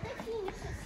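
Children playing at an outing to a fair, their high voices and chatter mixing in a lively background with nearby talk over it.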